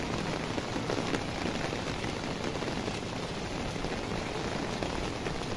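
Rain falls in a steady, even hiss of dense drops on surfaces, soft and continuous, with no voices.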